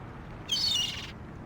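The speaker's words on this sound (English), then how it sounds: "It's a seagull." A hungry seagull in the adventure game The Longest Journey gives a single short, bright call that rises briefly above a quiet background hum.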